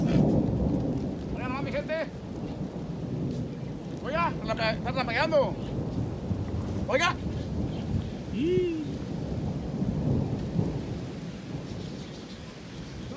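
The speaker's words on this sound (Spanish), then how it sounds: "Una tormenta eléctrica" A big electrical storm brings rolling thunder over steady rain, continuous and fairly loud throughout, while someone speaks intermittently beneath the rumble.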